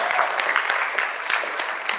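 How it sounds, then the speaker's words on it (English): An audience claps in a hall, scattered distinct hand claps that rise and fall irregularly, mixed with a few voices in the room. "let's clap it up for everybody"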